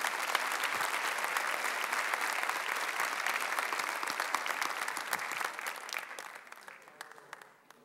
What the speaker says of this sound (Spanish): Recibimos con un fuerte aplauso a nuestro hermano pastor también